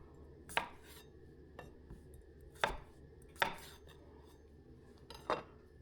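A knife chops sirloin steak trimmings on a cutting board in four crisp, evenly spaced strikes, close and clear over a quiet background.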